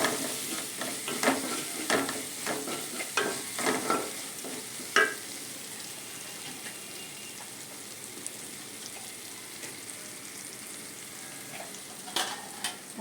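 Masala with chilli powder sautéing for a village-style anchovy curry, with a steady soft sizzle and irregular scraping stirs clustered early on, then quieter frying with occasional clicks.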